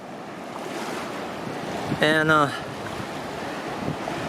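Surf washes onto Obian Beach on Saipan Island as a steady, broad rush mixed with wind buffeting the microphone, and a voice speaks briefly in the middle.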